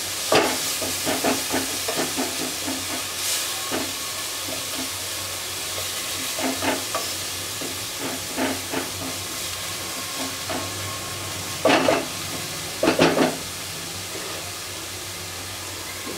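Turmeric and red chili powder roast in a pan for Punjabi rajma, a steady soft sizzle with occasional scraping stirs and a few louder clinks near the end.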